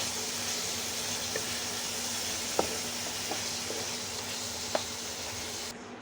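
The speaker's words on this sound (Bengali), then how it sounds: "এখন লাড়া দিয়ে মশলাটা সাথে শুটকিটা মিক্স করে দিই" Dried fish (shutki) being stirred into fried spices in a pan gives a soft, steady sizzle, with a few faint scrapes and clicks of stirring.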